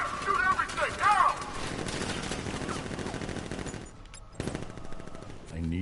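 Rapid machine-gun bursts from Batman: Arkham Knight gameplay, loud and dense, with a character shouting over the opening stretch; firing thins briefly near the end, then resumes in sharp crackles.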